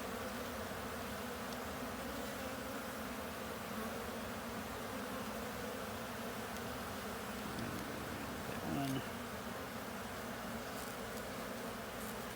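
Honeybees hum inside an open, healthy beehive, a continuous even drone that stays steady and moderately close throughout.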